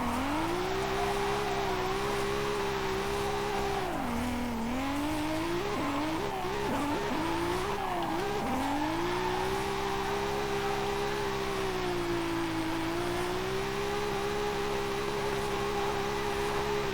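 A Ford Lightning pickup on drift tires with 800 horsepower in Forza Horizon 5 drones loudly and steadily, with the engine pitch dipping and wavering mid-run as the tires squeal through a slide, then settling back into a sustained roar.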